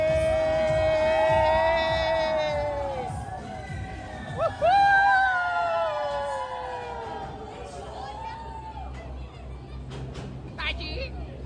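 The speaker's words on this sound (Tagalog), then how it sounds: "Pakinggan nyo yung hiyawan ng mga tao nung malapit ng dumaan sa ilalim ng tulay." Passengers on a tour boat in Bangkok scream and shout together as it passes under a low bridge, a sustained chorus of high voices that rises, peaks in a burst of yelling, then fades into scattered cries.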